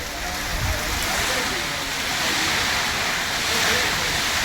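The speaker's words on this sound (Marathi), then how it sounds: "त्याच्यामुळे जोरदार पाऊस आहे अगदी" Heavy monsoon rain pours steadily at a hilltop site in the Rangna fort area, a dense, continuous hiss with low rumbles underneath and no clear breaks.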